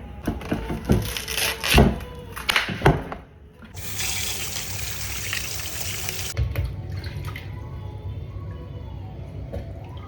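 Raw chicken pieces are washed under a running kitchen tap: close clattering handling in the sink, then a few seconds of a steady, gushing stream of water that fades to quieter trickles.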